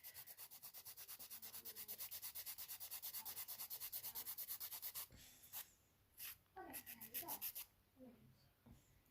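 Gel nail extensions filed down by hand, a steady rapid rhythmic rasping of strokes close up for about five seconds, then a few slower separate scrapes with soft murmuring in between.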